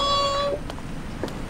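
A stray cat gives one short, clear meow close by, fading after half a second into quiet background.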